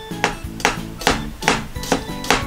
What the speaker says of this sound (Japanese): こんな感じで人参を切っていきます